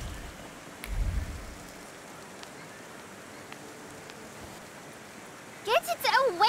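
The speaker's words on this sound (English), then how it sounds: "Now it starts to rain." Rain falls in the video game The Thaumaturge as a steady, soft hiss of ambient downpour, with a brief low rumble early on and a voice breaking in at the end.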